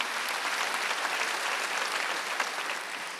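A church congregation at a Korean Wednesday worship service breaks into steady, full applause, a continuous wash of many hands clapping at even loudness throughout.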